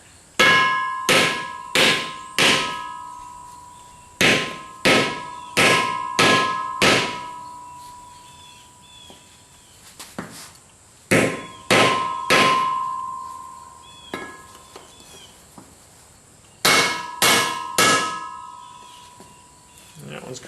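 Hammer strikes drive a recessed bearing into its support on a New Holland 630 baler. The metallic clangs come in loud, ringing bursts of three to five blows, separated by pauses.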